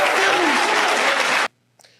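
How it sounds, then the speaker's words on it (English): Parents in a school setting burst into loud, dense applause that holds steady, then cuts off abruptly partway through, leaving near silence with a brief faint sound at the end. "all the rest of the parents start applauding there"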